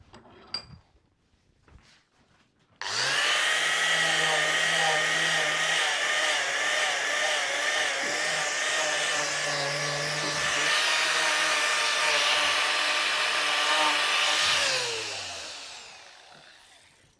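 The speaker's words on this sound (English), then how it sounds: "Let's sand it down a little bit more than that." A power sander works a wooden handle on a rusty garden spade, a few faint clicks followed by a loud steady whirring drone that holds for about twelve seconds before winding down, close and uninterrupted by talk.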